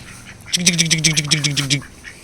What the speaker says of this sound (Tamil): இங்கே பாருங்க வாத்து குஞ்சுகள்